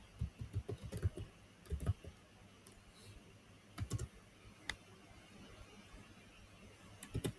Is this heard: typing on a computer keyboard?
yes